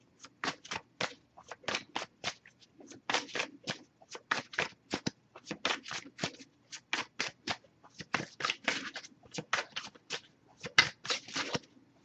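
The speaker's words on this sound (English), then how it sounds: "if I shuffle for a while and nothing comes up" Tarot cards being shuffled by hand, a rapid series of close, crisp riffling bursts repeating in an irregular rhythm with short gaps between them.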